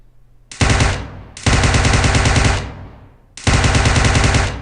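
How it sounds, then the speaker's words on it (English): Sustained automatic rifle fire in the mobile battle-royale game PUBG Mobile, three loud, close bursts of rapid shots, each cut off sharply and trailing a short echo, with brief gaps between. "as you can see, there's been non-stop gunfire here."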